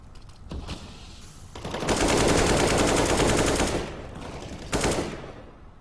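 Automatic weapon fire in Counter-Strike: Global Offensive comes as a dense, loud sustained burst of rapid shots lasting a couple of seconds, with a shorter burst before it and another after it, and no talk.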